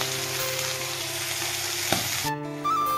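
Frying vegetables for a thin pangas fish curry sizzle steadily in a pan until water is poured in, and the hiss then drops sharply and changes to a duller bubbling.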